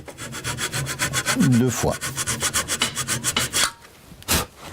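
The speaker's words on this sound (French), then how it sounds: "Et maintenant, je vais scier comme ceci." A hand saw cuts through wood at close range, a steady train of rhythmic back-and-forth rasping strokes that stops near the end and is followed by one last short scrape.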